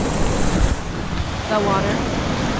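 Rushing water at a Yosemite waterfall forms a dense, steady roar of broadband noise, close and loud, with wind buffeting the microphone.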